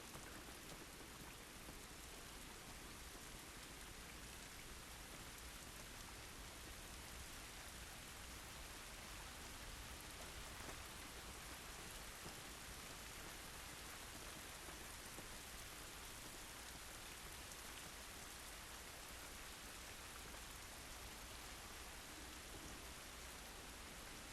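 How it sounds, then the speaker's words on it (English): Steady rain falls in The Last of Us Remastered game, a continuous dense hiss of raindrops on surfaces, even and unbroken throughout, with no talk over it. "This rain ain't gonna do us any good."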